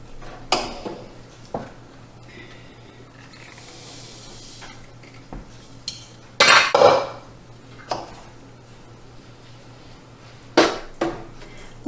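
Wild plum jam being stirred in a pot with added sugar: scattered spoon scrapes and clinks against the pot, with a few louder knocks and clanks among quieter stirring, no talk.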